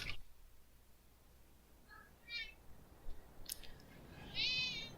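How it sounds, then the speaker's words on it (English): A cat meows faintly in a quiet room, a few short, high, wavering calls spaced over several seconds, the last one slightly longer and louder, against a low background hiss. "You guys might hear my cat."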